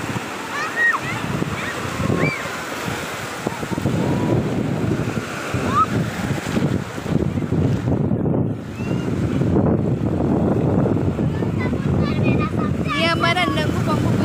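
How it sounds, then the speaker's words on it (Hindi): Sea waves wash ashore on Naigaon beach at Uran, a continuous loud surf roar mixed with heavy wind buffeting the microphone, with faint voices and bird-like chirps in the background. "ये समुंदर की लहरों का पानी है।"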